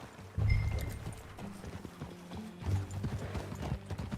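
Horse hooves in Red Dead Redemption 2 clip-clop in a steady walking rhythm over ground, fairly close, with a faint rumble of movement around them.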